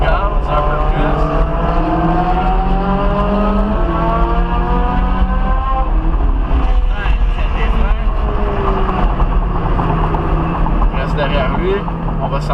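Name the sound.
Ferrari 458 Italia engine accelerating on race track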